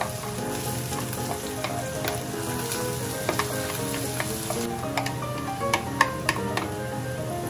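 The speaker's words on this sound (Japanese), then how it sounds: "温度を測るわけにもいかないので野菜から炒める音が消えない程度を意識するといいと思います" Vegetables stir-fry in a hot frying pan for omurice, a steady close sizzle with scattered sharp ticks and scraping from mixing, no voices.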